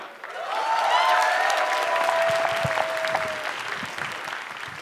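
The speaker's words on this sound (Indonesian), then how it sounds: "boleh tepuk tangan sekali lagi buat Ratanca" Studio audience applause for comedian Ratanca at a stand-up comedy grand final, a sustained wash of clapping that swells and then slowly tapers, with a faint tonal sound early on.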